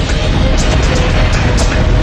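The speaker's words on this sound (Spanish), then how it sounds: "Hubo otra explosión masiva." A massive explosion on the Piper Alpha oil platform in the North Sea, a dense roaring broadband rumble that stays loud and steady throughout, with no distinct onset.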